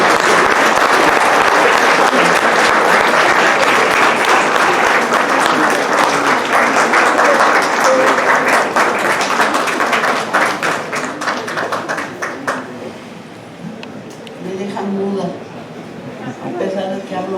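A standing audience gives a long, loud ovation of dense clapping to honour a doctor at a recognition ceremony. The applause thins toward the end as a voice begins speaking over it.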